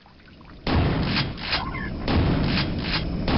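Rushing water in the video game Quake 2, a loud, steady band of wide noise that surges in abrupt pulses, close and continuous with no talk over it.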